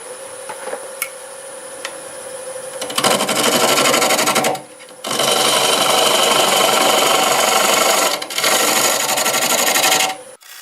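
A half-inch bowl gouge flattens the face of a wooden bowl spinning on a lathe, for a wave bowl with intersecting rings. A quiet motor hum gives way to a loud, steady, rasping cut that pauses briefly twice and runs close up without talk.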